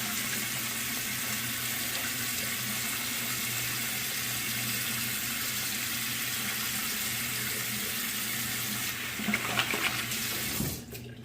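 Tap water runs steadily into a sink while a CJB Kamisori shavette razor is rinsed after a shave, a constant close hiss broken by brief splashing near the end.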